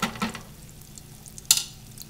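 Butter melting over reduced heat in a pan for Japanese tarako spaghetti, a soft fizzing sizzle with light stirring scrapes and one sharper clink partway through, close and fairly quiet.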